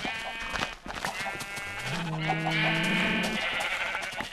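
Sheep in Minecraft version 1.1 bleat several times in close succession, loud and near, with wavering drawn-out calls and a few softer game clicks around them.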